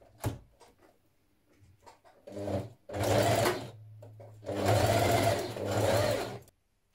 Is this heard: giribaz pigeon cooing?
no